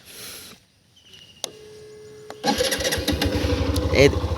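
A Hero Xtream 125R motorcycle cranks with a starter whine and then catches, its single-cylinder engine settling into a steady close idle; a brief voice is heard at the start.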